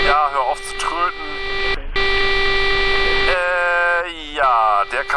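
A horn blares in the X-Plane 11 flight simulator game, a sustained electronic-sounding tone that sounds in several long blasts separated by short breaks, loud and near.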